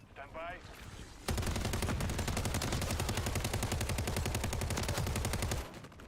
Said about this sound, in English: I couldn't tell because of the gunfire.